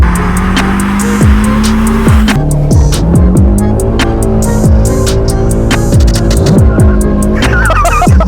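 A B58-swapped BMW E46 Touring drifting, with a loud, steady engine drone and shifting revs under a constant roar, close and continuous throughout.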